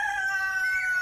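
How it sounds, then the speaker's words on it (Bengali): A neighbouring rooster crowing in one sustained, slightly distant call, heard alone without any talking. "আর ওই যে পাশের বাড়ির মুরগি ডাকছে।"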